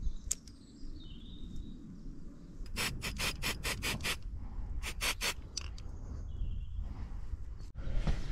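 Sheep's hoof being trimmed with shears, a rubbing, scraping cut with bursts of sharp rasping strokes in quick rhythmic runs, close and fairly quiet against a low background rumble.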